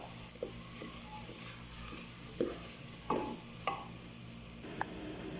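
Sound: rice being roasted and stirred in a pan

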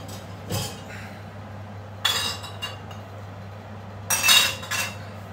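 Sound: glass beer bottles being placed into an oven

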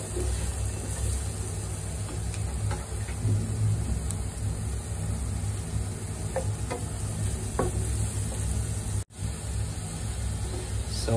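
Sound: garlic frying in a pan

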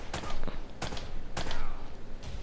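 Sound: gunfire in video game Uncharted: Drake's Fortune

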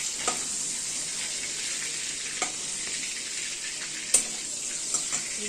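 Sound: prawns frying in a pan

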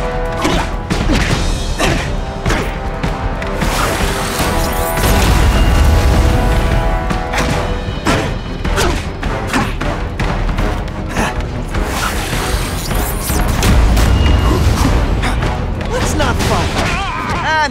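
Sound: weapons being destroyed in The Amazing Spider-Man 2 video game

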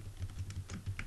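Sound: typing on a computer keyboard

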